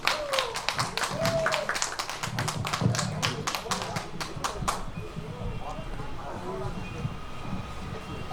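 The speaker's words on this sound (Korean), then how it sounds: "방자 박수 주세요." An audience claps in a dense, rapid burst for several seconds at an outdoor red ginseng festival performance by a pumba troupe, then the clapping fades into crowd noise and voices.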